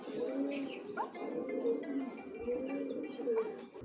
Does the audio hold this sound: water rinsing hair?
no